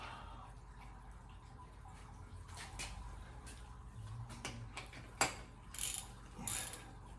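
A ratchet wrench snugs the oil drain plug with its new copper washer back into a 1979 Ferrari 308 GTS, giving quiet repeated close clicking with a few sharper metallic knocks toward the end.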